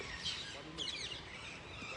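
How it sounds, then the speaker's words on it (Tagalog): Many birds call outside a mausoleum and mosque, heard as faint, scattered high chirps and twitters, with a brief cluster near the start and another about a second in, over a soft outdoor background. "Yan, daming ibon."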